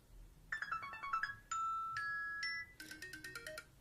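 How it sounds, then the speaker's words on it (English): Bright electronic iOS 7 ringtone melodies play one after another on an iPod Touch: quick tinkling chime runs, then sustained two-tone beeps, then a busier jingly pattern, with no voices. "you can use like the ringtones or the alarm sounds"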